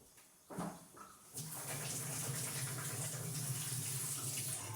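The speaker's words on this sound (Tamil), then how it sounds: "பூண்டை வந்து நான் கழுவிடுறேன்" Garlic is washed under a running tap. The water gushes steadily and close by, with light splashing, after a brief handling noise at the start.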